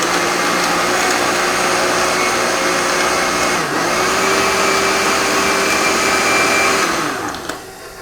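A kitchen blender whirs steadily as it blends pumpkin puree with half a nutmeg. The motor hum is loud and close, dips briefly midway, then winds down near the end.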